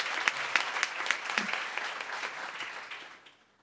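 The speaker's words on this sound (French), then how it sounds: "Vous pouvez l'applaudir." An audience at a foundation launch evening claps in a short burst, with sharp separate hand claps near the front. The clapping thins and fades out over a few seconds.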